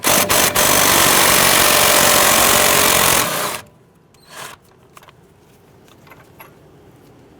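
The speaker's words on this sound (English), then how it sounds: "Using a 14mm socket, go ahead, loosen and remove the clevis fork bolt." A 14mm socket on a power tool spins out the clevis fork bolt on the front lower control arm of a 2008–2013 Infiniti G37: a loud, steady whirring buzz for about three seconds, then it stops and a few faint clinks follow.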